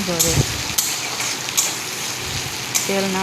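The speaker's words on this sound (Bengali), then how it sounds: "মশলাগুলো আমি ভালো করে কষিয়ে নেব যতক্ষণ পর্যন্ত মশলা গায়ে থেকে তেল না" Spices sautéing in oil in a pan for mutton head curry, a steady broadband sizzle with a few sharp stirring clicks, while a voice speaks briefly at the start and end.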